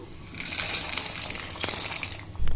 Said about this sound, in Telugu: ఇప్పుడు ఆల్రెడీ వాటర్ మంచిగా బాయిల్ అవుతుంది